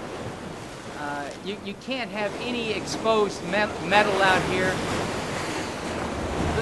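Ocean surf and gusting wind at a seaside commercial building, a steady broad roar beneath a voice talking close to the microphone throughout.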